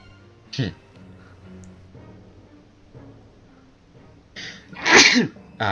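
A sharp sneeze bursts out near the end, loud and close, preceded by a brief catch of breath and quiet background.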